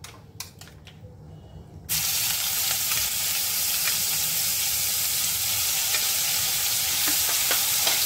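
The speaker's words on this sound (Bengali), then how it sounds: "এখন আমি দিয়ে দেব পেঁয়াজ বাটা।" Onion paste hits hot oil in a catfish curry pan, setting off a sudden loud, dense sizzle that holds steady after a few quiet taps at the start.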